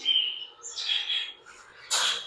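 Pet-shop lovebirds let out high, thin chirps near the mic, a run of tweets at the start, then a short bright squawk near the end, with no voices.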